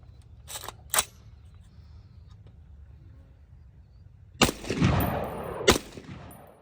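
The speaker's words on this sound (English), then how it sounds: ".308 150 grain ball ammo 16-inch barrel." Suppressed .308 rifle fired with 150-grain ball ammunition from a 16-inch barrel through a Surefire SOCOM300 suppressor: sharp cracks, two early quieter reports then louder shots near the end with a brief reverberant tail outdoors.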